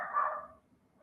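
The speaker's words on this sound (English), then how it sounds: "your dog is going nuts right now" One short, sharp dog bark from a dog going wild in the background of a live indoor session, a single quick yelp that fades fast into quiet room tone.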